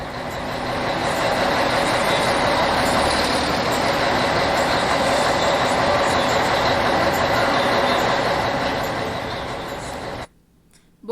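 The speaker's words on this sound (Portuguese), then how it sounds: "Nosso ônibus." A bus drives along with a steady, loud engine drone and road rumble that continues evenly for about ten seconds before cutting off abruptly, with no one speaking.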